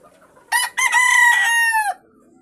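A sweater hatch gamefowl rooster lets out a single loud, close crow lasting about a second and a half, clear and alone with no talking.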